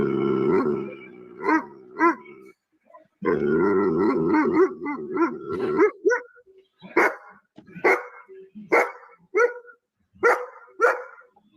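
Dogs bark and growl from a played recording, first a long rumbling growl, then a run of sharp, loud barks spaced about a second apart.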